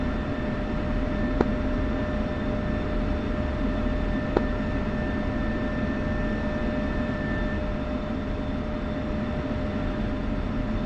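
Steady jet engine drone of an aircraft taxiing in DCS World, a continuous broadband roar with faint tonal whine and two brief clicks, no talk.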